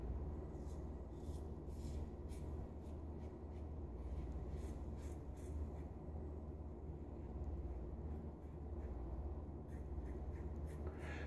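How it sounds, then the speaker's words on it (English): A safety razor with an aluminum handle and a Gillette Silver Blue blade cuts through facial hair, quiet repeated raspy scraping strokes over a steady low background hum, close and faint. "I'm feeling the hairs being cut"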